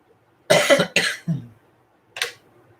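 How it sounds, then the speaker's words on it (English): Several close, rough coughs in quick succession, then a short pause and one more single cough, with no talking. "We just keep passing this coughing thing back and forth"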